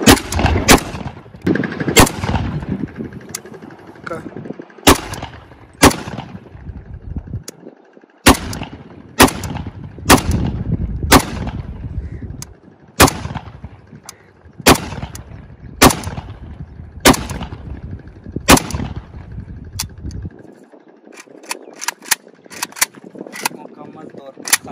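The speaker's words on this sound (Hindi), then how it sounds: "दूसरा हमारा सेफ्टी ऑफ हो गया, फायर करने लगा हूँ, चेक कर ले दोस्तों।" A Chinese Type 56 AK-47 rifle is test-fired outdoors, with roughly twenty sharp, loud single shots spaced irregularly, followed by a few quick faint cracks near the end. A voice can be heard at times between shots.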